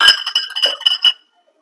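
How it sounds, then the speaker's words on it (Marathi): Raw peanuts poured into a metal pressure cooker holding washed vegetables, a quick run of bright clinks and rattles lasting about a second before silence. "आता ह्यातच आपण हे कच्चे शेंगदाणे हे टाकणार आहे"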